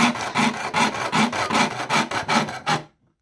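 Rhythmic rasping strokes of a hand saw cutting through thin copper sheet, about ten even back-and-forth passes, close up, then it stops.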